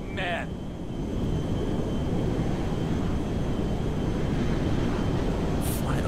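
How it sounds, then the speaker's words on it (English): A jet aircraft flies in GTA V, making a loud, steady, broadband engine roar that fills the whole stretch, with a couple of brief high electronic chirps at the start and end. "Did that jet just hit me?"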